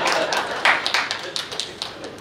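An audience claps in a burst of applause at a hospital walkathon event in Nagpur, with scattered taps under an announcer's voice for a short stretch.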